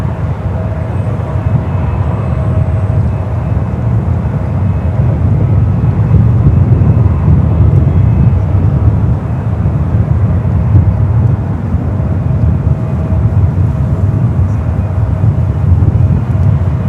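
A Boeing 737-800 at SFO airport rumbles continuously for the whole stretch, a loud, steady low engine roar with no voices over it.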